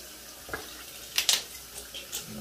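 Cold tap water runs while a hat is washed: a steady, soft hiss of flowing water broken by a few brief splashes and scrubbing bursts.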